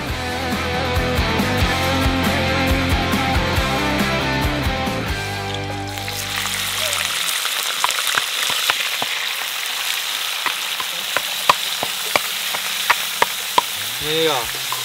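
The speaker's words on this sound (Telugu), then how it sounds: "ఈ ముక్కలను కొద్దిగా మంచి ఇలా వేగించుకోవాలి" Pieces of country chicken for biryani fry in a pot over a wood fire. Music plays at first, then gives way to a steady sizzle with sharp crackles and pops.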